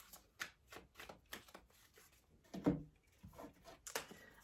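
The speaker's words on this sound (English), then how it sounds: "Eventually, I will learn how to shuffle cards." Quick bursts of tarot cards riffling and slapping together, several shuffles in a row at close range, with a brief thump partway through.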